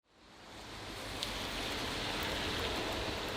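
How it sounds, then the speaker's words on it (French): Steady rain falls in a dense, even hiss that swells in over the first second, then holds a constant wash with a few faint drop ticks and no voices. "il pleut"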